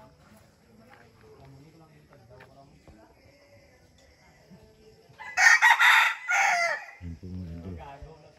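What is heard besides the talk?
gamefowl roosters crowing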